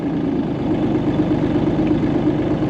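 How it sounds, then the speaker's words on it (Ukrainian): A Lovol 354 tractor with a new engine runs close by, a steady low diesel rumble with no clear rev rise, and no voices. "Ось я його завів. Давайте підгазнем, подивимось."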